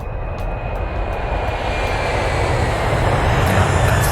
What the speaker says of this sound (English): Insert jet engine sound here.